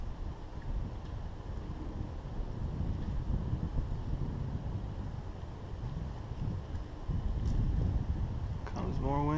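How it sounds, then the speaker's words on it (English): Wind gusting across a bank while fishing for crappie with a slip cork in the fall, a constant low roar buffeting the microphone and rising slightly toward the end. "There's more wind."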